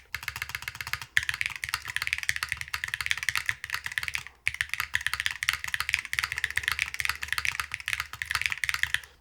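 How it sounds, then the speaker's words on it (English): Steady fast typing on a Hall-effect keyboard with deep Peony switches and an ABS spacebar, crisp close clicks and clacks in an uneven rhythm, broken by two short pauses. "I'll try an ABS spacebar too. Interesting. It definitely, this really reminds me of an HE keyboard."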